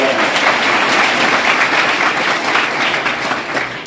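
A crowd at a Marathi devotional discourse bursts into dense, loud applause that holds steady for about four seconds, with no voices over it.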